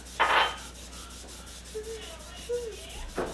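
A finger rubs filler into a gap in a wooden table: two short, soft scraping strokes, one at the start and one at the end, close and quiet against a faint background.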